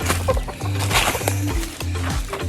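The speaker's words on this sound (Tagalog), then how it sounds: "Madami na yung manok natin" Chickens cluck repeatedly with a rooster's low calls mixed in, a busy, fairly close barnyard chorus with no talking.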